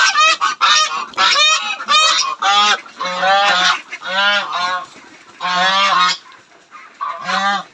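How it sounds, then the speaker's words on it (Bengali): Geese honk loudly and close by in repeated harsh bursts, several calls overlapping with short gaps between them, alone with no talk. "এই 3টা রাজহাঁস তো পাতি হাঁস রাখছি।"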